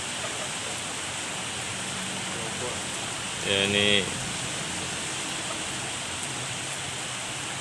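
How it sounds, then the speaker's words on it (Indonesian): Heavy rain pours at night over a flooded road, a steady dense hiss that fills the whole clip, with a short burst of nearby speech partway through. "hujannya nggak reda-reda nih."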